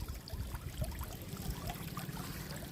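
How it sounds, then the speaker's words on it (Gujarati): Underground sewer water flows through a street drain in a Vankaner neighbourhood, a steady low gurgling and trickling rush that runs continuously and fairly close, with no voices over it. "આ ભૂગર્ભ ગટરનું પાણી જાય છે"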